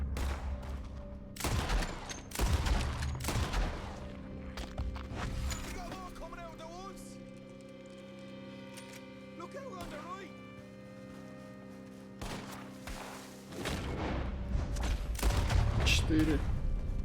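Rapid gunshots in a western video game, a quick burst of sharp cracks at the start and another loud cluster near the end, with a quieter stretch of faint clatter and a voice between them.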